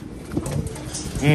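Pigeons coo in low, rounded bursts close by, with wind rumbling steadily underneath and a louder throaty call near the end.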